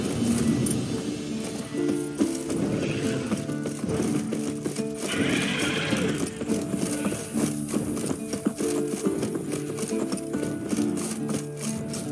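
Horse neighing and clopping hooves in The Witcher 3 video game, the warhorse whinnying over steady hoofbeats amid game sound effects and a music bed, with no talk.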